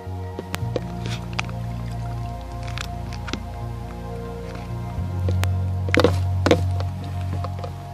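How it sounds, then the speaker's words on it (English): Water dripping through a squeezed filter into an empty bottle, a few close, wet drips and squishy taps scattered over a low hum, with a cluster of louder drips toward the end. "Oh, there's water coming through."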